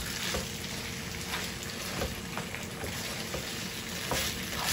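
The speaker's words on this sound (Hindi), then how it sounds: "केचप डाल के इसको अच्छे से मिक्स करेंगे।" Fried chicken manchurian is stirred in a pan as ketchup is mixed in, a soft steady sizzle with repeated quiet stirring scrapes, faint and close, with no voices.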